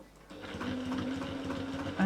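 A sewing machine runs a short free-motion quilting stitch, a fast, even mechanical whir and rapid needle patter that starts abruptly and holds steady up close.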